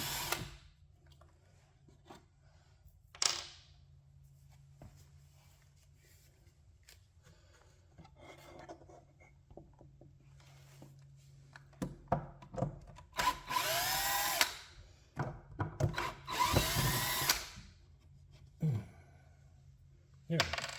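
A power drill backs screws out of a modeling bench in several short whirring bursts between quiet pauses, with some handling clatter and occasional talk in between.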